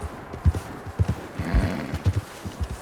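A horse's hooves in Red Dead Redemption 2 thud in a steady walking clip-clop on a rough road. The footfalls are close and low, with a faint rustle around them.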